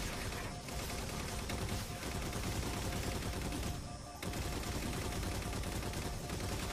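Heavy automatic turret gunfire in Halo 4, a dense, continuous roar of rapid shots that runs almost unbroken through the whole stretch, dipping briefly near the middle before resuming at full loudness.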